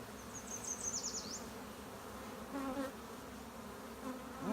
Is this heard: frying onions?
no